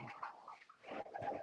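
Racing pigeons cooing softly inside a loft, a few low murmuring calls close by and faint, with no voices.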